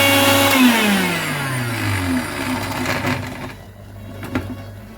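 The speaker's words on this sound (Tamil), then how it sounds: "இப்போ நான் இதை வந்து மிக்சியில் கொஞ்சம் அரைச்சிக்கிறேன்" Electric mixer grinder whirring loudly while grinding roasted spices into powder, its motor pitch sliding down and then settling into a steady hum, close up with no talk.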